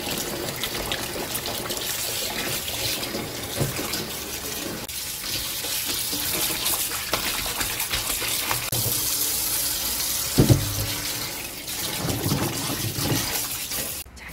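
Water from a kitchen tap runs steadily while chives and mushrooms are rinsed under it, with splashing and the rustle of handled greens that stays close throughout.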